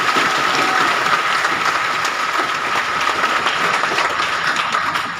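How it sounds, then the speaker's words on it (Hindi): Loud, sustained applause from a large audience for a group of children in a classroom lecture setting, a dense unbroken wash of clapping that eases slightly at the end. "एक बार इन बच्चों के लिए एक बार तालियां"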